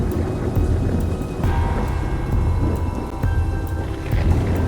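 Steady heavy rain pours down with low rumbling thunder rolling underneath, a continuous dense wash of sound with no voices.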